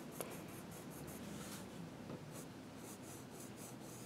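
Pencil crayons rubbing and scratching across paper in steady, repeated strokes, close up and soft, with no voices over the scratching.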